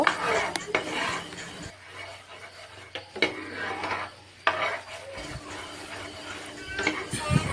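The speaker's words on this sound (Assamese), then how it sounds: "এইখিনি এনেকৈ লৰাই থাকিম, নহ'লে টাৱাখনত লাগি যাব" A puffed rice laddoo mixture is stirred on a tawa over low flame, giving repeated gritty scrapes and rasps against the pan, with a voice talking over it.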